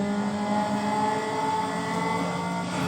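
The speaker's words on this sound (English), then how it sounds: "this engine right now, the way how it sounds" A car engine in Need for Speed Underground drones and revs steadily throughout, a loud continuous game-engine tone with an echoey quality and no talking.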